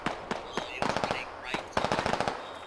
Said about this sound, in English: I tried to shoot at him.